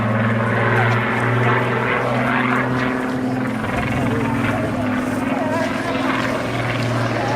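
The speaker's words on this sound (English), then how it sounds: "we can hear that wonderful, distinctive sound of the Rolls-Royce engine" A vintage propeller aircraft's Rolls-Royce piston engine drones during aerobatics at an air show, a loud, continuous, deep throbbing roar with shifting tone under steady commentary.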